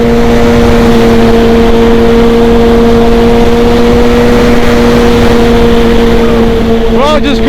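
A tuned Suzuki GSXR1000 motorcycle with a full exhaust holds a loud, steady droning engine note close by as it rides off, the tone staying level throughout.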